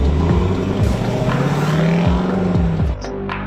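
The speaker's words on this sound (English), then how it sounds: "the engine note is like a Wagner symphony" Lexus LC 500 convertible with a naturally aspirated 5-liter V8, a steady loud rumbling engine note with a rising rev and some gear-change dips, close and continuous, easing off near the end.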